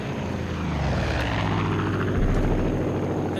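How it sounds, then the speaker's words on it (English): An airplane in the video game Far Cry 5 flies overhead with a loud, continuous propeller-engine drone, a deep sustained roar that holds steady throughout with no voices. "I really don't like the airplanes."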